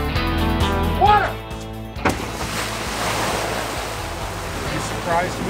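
Ocean waves of water surge in a broad, rushing roar near a lighthouse set, with voices and a sharp burst of noise early on before the wash settles into a steady churn.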